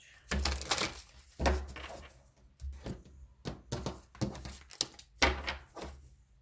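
Tarot cards being shuffled in a series of quick riffling bursts with short pauses between, close and fairly crisp, no talking.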